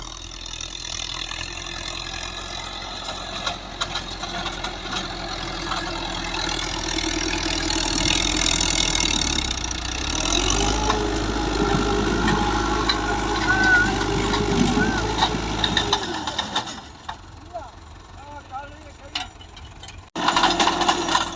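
An NH Dabang tractor engine runs steadily with a low rumble and mechanical clatter while ploughing, rising louder midway, then cutting off near the end.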